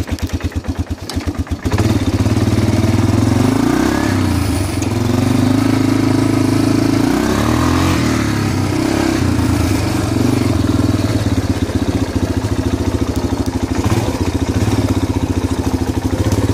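A 20-year-old Yamaha Big Bear 350 4x4 quad with a five-speed gearbox runs loud and close, its engine droning steadily with revs swelling and easing as it rides, after a brief rough start.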